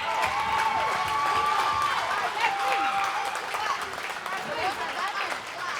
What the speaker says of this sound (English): One more round of applause for all the bands that have performed tonight.